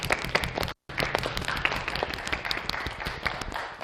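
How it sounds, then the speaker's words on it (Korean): A church youth worship service congregation claps in a dense, steady burst of applause that fills the room, broken once by a brief silent gap near the start. "다시 한번 박수 치고 들어가시죠."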